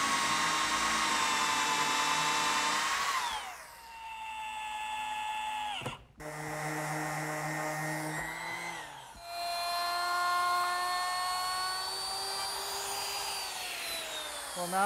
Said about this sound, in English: it directs the drill at a 15-degree angle